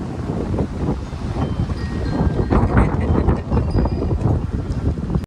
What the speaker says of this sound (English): the wind has been so gusty through here that it is blowing the plants over on the carport